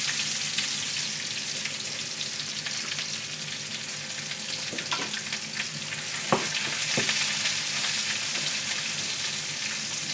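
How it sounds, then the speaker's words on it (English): Yaki udon ingredients sizzle and crackle steadily in a hot pan, with a few scraping stirs partway through. "it's pretty much frying"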